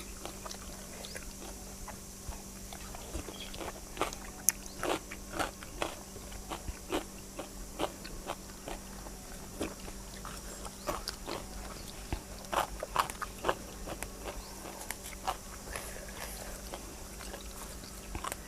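Someone eats boiled shrimp with a crunchy cucumber salad, fresh basil and soft rice noodles, close up, with repeated crisp bites and crunches and wet chewing in an irregular rhythm.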